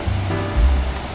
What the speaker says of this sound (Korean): 파도 밀려오는 것도 예쁘고.